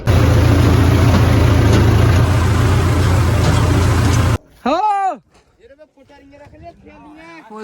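Loud, steady tractor engine drone hauling an overloaded trolley of grain sacks after threshing, running continuously for about four seconds before cutting off, followed by speech.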